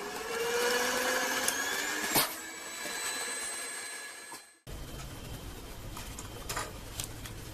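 An electric mixer whirs steadily while beating batter for onde-onde ketawa, its motor pitch wandering as it works, then it stops abruptly and only quiet background clatter and faint taps remain.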